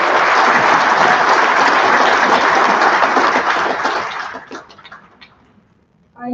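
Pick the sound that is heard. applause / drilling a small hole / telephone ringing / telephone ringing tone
applause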